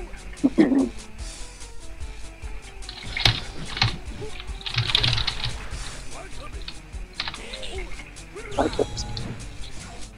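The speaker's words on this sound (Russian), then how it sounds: "Слышные нажатия клавиш." Fast clattering on a computer keyboard during a heated Jojo Heritage for the Future fighting game match, irregular bursts of key presses with occasional louder hits, voices talking at times.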